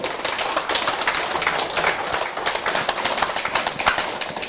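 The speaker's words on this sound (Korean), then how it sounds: "박수 박수" Lecture audience applauding in a hall during a Saturday talk, a dense, steady wash of many hands clapping close and loud throughout, without voices on top.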